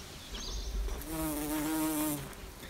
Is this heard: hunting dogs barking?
no